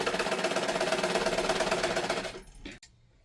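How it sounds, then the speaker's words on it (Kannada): A sewing machine stitching a blouse runs steadily and close for over two seconds with a rapid, even rattling hum, then slows and stops, followed by a couple of brief mechanical clunks. "ಅರ್ಧ ಇಂಚಿನಾಗ ಹೊಲಿಕೋಬೇಕು."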